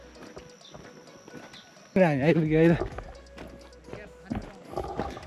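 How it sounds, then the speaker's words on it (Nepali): Horse hooves clip-clop along a hiking trail at Kakani, a light rhythmic tapping heard under people talking nearby. "घोडा पनि छ यहाँ."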